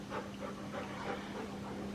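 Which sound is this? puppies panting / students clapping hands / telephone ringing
puppies panting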